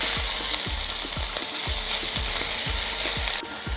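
Chicken frying in a pan for creamy chicken pasta, a loud steady sizzle with a rapid regular series of low thumps from the pan or stirring spoon, close up and without talk.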